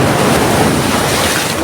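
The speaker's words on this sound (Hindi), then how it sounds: "अब लहरें तेज़ हो रही हैं" Strong ocean waves surging and breaking on the shore, a loud, continuous roar of surf with wind buffeting the microphone, close and steady throughout.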